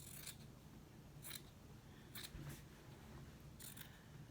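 Scissors snip through a t-shirt sleeve near the armhole seam, four or five short, crisp cuts spaced about a second apart, close and faint over a quiet hiss, with no talking.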